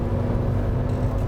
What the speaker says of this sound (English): this particular Patrol is powered by the ancient but legendary TD42 Ti intercooled turbo diesel engine